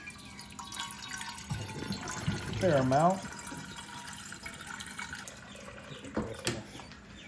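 Tap water runs into a casserole pot in a home kitchen while pasta is made from scratch, a short gurgling fill rising in pitch under a brief spoken remark and background clatter.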